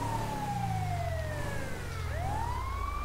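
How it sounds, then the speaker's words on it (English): A police car siren in a video game wails continuously, its pitch sweeping down and then back up, over a steady engine rumble. "Oh, that's their sirens."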